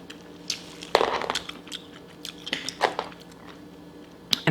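Whole boiled crab is smashed and eaten up close, with irregular wet cracks, squishes and crunchy bites in short bursts, some sharp and loud, over a quiet background.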